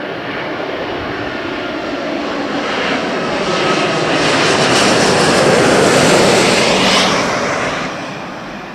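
A British Airways Airbus A330 jet passes at Heathrow Airport with a loud, broad engine roar that swells to a peak and then eases away, with no talk over it.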